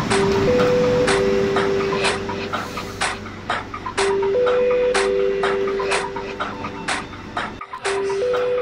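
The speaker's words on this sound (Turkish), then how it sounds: "Şimdi metro değiştirdim." A Barcelona metro train rattles and clatters over the track while its motor whine rises and falls in stepped tones, then the sound cuts out abruptly near the end.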